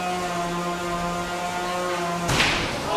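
A 12lb combat robot's spinning weapon droning with a steady tonal whine, then a single sharp, loud impact as it strikes the opponent's front armor.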